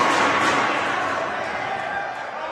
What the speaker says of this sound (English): And the crowd likes those.